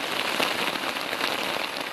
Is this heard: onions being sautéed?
no